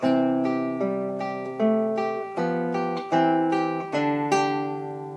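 Acoustic guitar plays a Für Elise phrase, a repeated G pedal note alternating between the other melody notes, plucked notes ringing in a steady pattern, close and clear with no talking.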